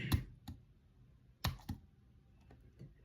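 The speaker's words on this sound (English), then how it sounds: "even if it's just me typing gibberish" A computer keyboard is tapped in soft, sparse clicks: a few isolated keystrokes with pauses between them, close and quiet in an otherwise still room.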